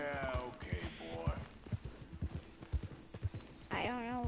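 A horse in Red Dead Redemption clip-clops at a steady pace, close and clear. A sharp snort or whinny rises near the end, and bits of voice sit under the hooves.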